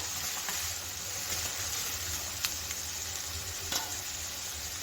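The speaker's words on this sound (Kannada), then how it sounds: "ಈರುಳ್ಳಿ ಚೆನ್ನಾಗಿ ಮೆತ್ತಗಾಗಬೇಕು, ಚೆನ್ನಾಗಿ ಫ್ರೈ ಆಗಬೇಕು. ಅಲ್ಲಿವರೆಗೂ ನಾವು ಈರುಳ್ಳಿನ ಸ್ಟವ್ ಮೇಲೆ ಬಾಡಿಸ್ಕೋಬೇಕು" Chopped onions frying in oil in a pan on the stove for a tomato gojju, a steady close sizzle with a few soft stirring scrapes and no talk.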